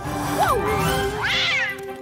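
A cat meows twice up close, a short rising-falling mew followed by a longer, higher, drawn-out cry.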